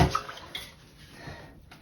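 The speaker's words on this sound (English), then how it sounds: "I'm just going to add a little bit of water from the pre-soak." Water from a pre-soak is poured into a dye pot, a light splashing trickle with faint clinks, fairly quiet and close, with no voices.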